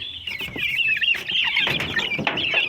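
Silkie and turkey chicks cheep and cluck continuously in a close, busy poultry pen, their high calls overlapping with brief louder bursts and no talking.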